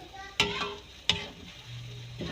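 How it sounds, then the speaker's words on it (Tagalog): Egg and bitter melon being stirred in a pan, with two sharp utensil clacks against the pan over a faint, steady sizzle. "Halo natin, halo para ma-dissolve lahat at pantay-pantay ang kanyang lasa."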